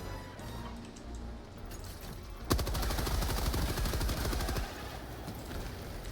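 Rapid automatic gunfire in the shooter game Helldivers 2, a loud sustained burst of closely spaced shots lasting about two seconds and then stopping, set against the game's background noise.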